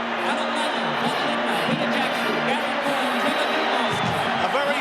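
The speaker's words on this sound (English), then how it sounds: "The King leads the Maroons onto Lang Park. And the crowd rises to the occasion." A packed stadium crowd at Lang Park roars and cheers steadily as the Maroons take the field for a 1990 State of Origin rugby league match, with a commentator talking over the continuous wash of noise.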